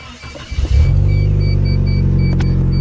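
A Suzuki Sidekick off-road rig cranks briefly, then its engine catches and settles into a loud, close, steady idle rumble.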